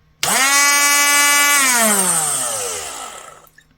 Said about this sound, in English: Okay, let's power this in on. Be ready for a bit of noise. Oh, this accelerates extremely quickly.